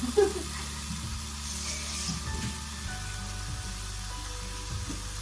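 A pork leg fries in oil with a steady crackling sizzle, close by and moderately loud. Low rumbling clunks and stirring knocks sit underneath it.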